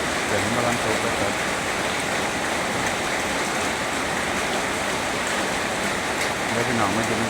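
Rain falling outdoors during an evening family meal, a steady, even hiss that runs unbroken throughout, with faint voices at moments.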